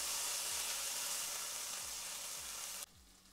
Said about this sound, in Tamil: இப்போ நல்லா இஞ்சி பூண்டு அந்த பச்சை வாசம் போகிற வரைக்கும் நல்லா வதக்கிக்கலாம்.